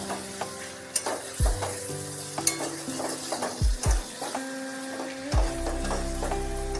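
Hilsa fish head chorchori is stirred on high flame in an uncovered pan: irregular scrapes and soft knocks with a frying hiss over a steady humming tonal background.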